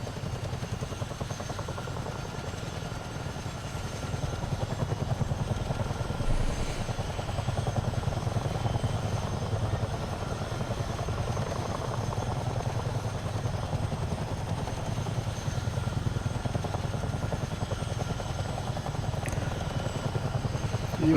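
Steady, continuous drone of a PAC 750 single-engine turboprop aircraft in Microsoft Flight Simulator during an online group flight, holding a constant level throughout with no talk over it.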